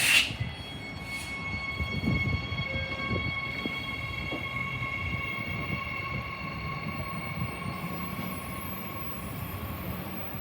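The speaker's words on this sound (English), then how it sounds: "will arrive on platform 2 in approximately 2 minutes. Please wait behind the yellow safety line until the train has stopped." A Queensland Rail commuter train pulls into a suburban station platform during the evening peak. It gives a steady, loud rolling rumble with thin, high metallic squeals and whines running throughout, and no voices are heard.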